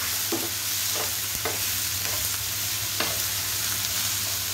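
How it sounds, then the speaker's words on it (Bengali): Okra frying with green chilies is stirred in a pan, scraping strokes of a spatula recurring every second or so over a constant close sizzle, with no voices. "আর হচ্ছে 4-5টা আপনার কাঁচামরিচ দিয়ে হচ্ছে সুন্দর করে এখন নেড়ে দিব"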